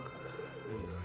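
Pigeons coo softly inside a loft, low murmuring calls repeating under a faint background hum, with no talking.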